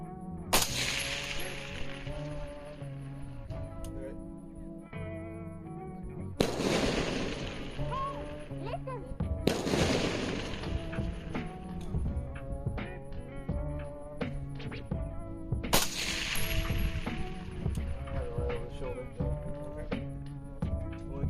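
KelTec RDB20 bullpup rifle fired at long-range steel targets on an outdoor range, several loud, sharp reports spaced seconds apart, each with a booming tail, over constant background noise and no talk.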